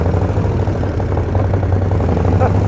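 A 1934 Morgan Threewheeler Supersports in original condition, its engine running steadily and loud with a deep low drone, close by, as the car pulls away on hand throttle. No speech over it.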